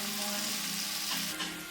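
Onion, garlic and green pepper with a bay leaf and rosemary fry in a pan used for chicken, a steady close sizzle with light crackle throughout a short moment.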